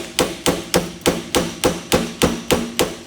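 A flat screwdriver is struck with a hammer against a spanner nut on a Venom Motorsports pit bike's triple tree, eleven loud, evenly spaced metallic blows about a quarter second apart, close up with no talking.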